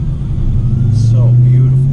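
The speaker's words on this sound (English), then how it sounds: "Listen to that exhaust, boys." A 2019 Dodge Charger SRT 392 Scat Pack in manual mode sends out a deep, steady exhaust rumble from nearby, holding an even drone with a voice over it.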